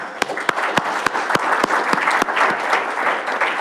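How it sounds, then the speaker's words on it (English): An audience at a Rochester Board of Education business meeting applauds a young man, with loud, sustained clapping from a roomful of people, a few sharp near claps standing out in a regular beat. "Why don't we give this young man a round of applause?"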